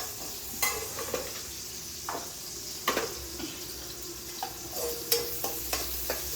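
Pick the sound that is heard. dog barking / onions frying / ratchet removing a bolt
onions frying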